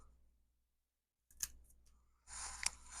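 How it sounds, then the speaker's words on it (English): Scissors snip through a part of a male urethral sling device, two crisp cuts heard close and quiet in an otherwise silent room. "So here we cut."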